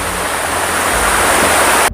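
Waterfall and flowing stream at Curug Cipayung in Kuningan, West Java, a loud, dense, continuous rush of falling water close by with no voices.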